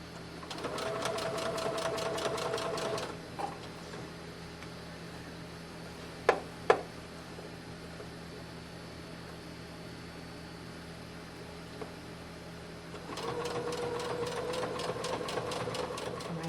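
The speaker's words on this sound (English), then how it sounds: "I'm going to sew right down along that" Sewing machine stitching an 18-inch doll's dress, a quiet rapid motor hum in two short runs separated by a pause with a couple of small clicks.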